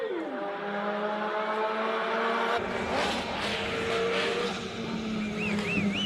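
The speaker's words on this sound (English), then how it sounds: "But you're watching the Zaxpeed Mark II turbocharged little Escort up the hill" A turbocharged four-cylinder rear-wheel-drive Ford Zaxpeed replica Escort Mark II climbs a hill in a race, its engine note rising then giving way to a loud, rough, sustained roar at close range.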